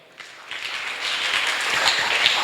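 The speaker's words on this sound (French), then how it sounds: "Donnons une acclamation au Seigneur." A church congregation at a Sunday school service breaks into applause, starting quietly and swelling into a broad, continuous clapping that holds to the end.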